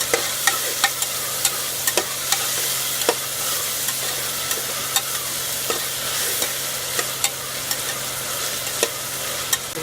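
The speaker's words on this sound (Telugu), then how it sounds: "పొడి వేసి వేయించుకోవాలి" Spice powder frying in a pan for a stuffed brinjal curry: a steady dry sizzle with regular scraping taps from a spatula stirring through it, close and moderately loud, with no voices.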